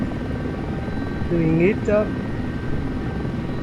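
A wheeled helicopter in a desktop flight simulator game holds a steady rotor and engine drone throughout, with a voice talking over it.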